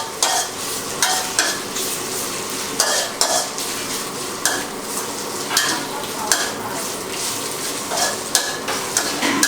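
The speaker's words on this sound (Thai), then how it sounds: "ผัดไปสักครู่ให้เห็ดหอมนิ่มนะครับ แต่อย่าผัดนานเกินไปนะครับ" Shiitake mushrooms stir-fry in hot oil for spring roll filling, a loud, bright sizzle with rhythmic scraping and clanking of the spatula on the pan every second or so, close up.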